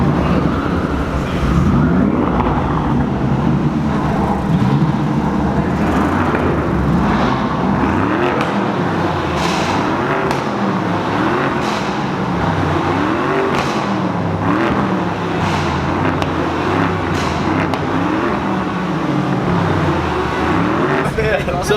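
A BMW 650i and a BMW M4 rev against each other in a rev battle at a car meet, engines repeatedly rising and falling in loud, close bursts of revving and exhaust roar over a steady idle, with people talking throughout.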